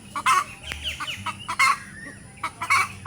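Chickens in a rural provincial yard, a hen near a nest of eggs, giving repeated close clucks and squawky calls in short bursts, with a low background hum.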